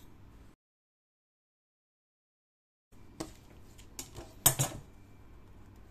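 Scissors snip fabric to shape a neckline. A few sharp clicks and snips come close after a stretch of silence, over faint background hiss.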